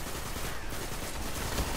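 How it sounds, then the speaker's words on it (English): Hand cannons fire in a Destiny Trials of Osiris match, a dense, continuous barrage of gunfire blending into a noisy wash with a heavier thump near the end. "God, they're all using hand cannons."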